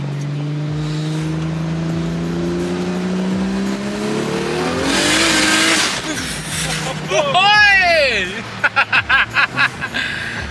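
A powerful 1100hp Barra car engine revs and accelerates, its pitch climbing through gears, then snaps and crackles in rapid bursts, with people chattering and laughing over it.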